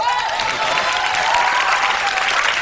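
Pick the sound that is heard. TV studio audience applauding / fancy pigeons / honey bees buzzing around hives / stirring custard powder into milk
TV studio audience applauding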